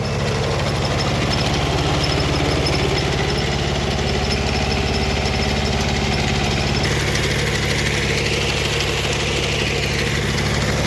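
A Kubota tractor engine running steadily while digging potatoes in a field, a loud, close, continuous mid-to-low rumble with a rhythmic knocking throb that holds for about eleven seconds with no talking.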